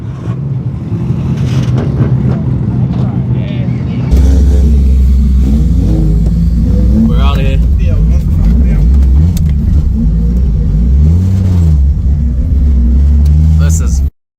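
A drift car engine revs hard at a busy meet, a loud, low rumbling growl that jumps in level partway through and rises and falls in pitch, with voices and crowd noise mixed around it.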